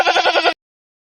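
A single goat bleat, short and wavering with a pulsing tremble, loud and close, then silence.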